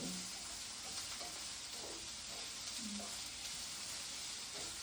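Sweet onions sautéing quickly in a pan, a soft, continuous background sizzle with a few faint utensil clicks and stirs, fairly quiet throughout.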